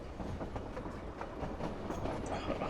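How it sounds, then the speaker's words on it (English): Train running on rails as a sound effect in a narrated picture-book story: continuous rumbling with rhythmic clickety-clack of wheels, steady and moderately loud, with no speech over it. "At that moment, the train came to a stop."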